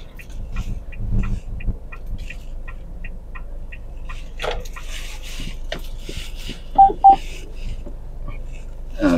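A GWM Cannon pickup sounds a short series of rapid, evenly spaced electronic warning beeps. They come through over quiet cabin noise, with a couple of louder tones later.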